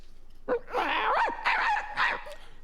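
A dog's voice played as a character: close, lively barks, yips and whimpering sounds in a few short bursts.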